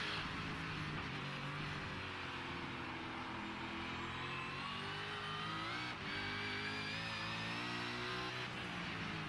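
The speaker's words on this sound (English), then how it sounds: "You can hear the tyres squealing a bit, can't you?" Racing cars in a V8 Supercars simulator game on the Long Beach circuit: a constant loud, high engine whine with revving and sustained tyre squeal on the corners, with no talk.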